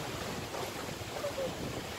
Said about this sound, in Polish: Jest wiaterek, chociaż taki orzeźwiający.